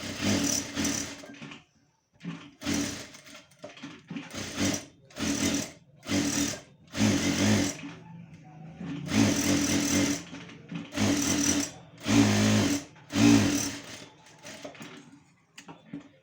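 Sewing machine stitching lining onto a four-tuck blouse, a repeated series of short whirring runs separated by pauses, close and clear with no talk.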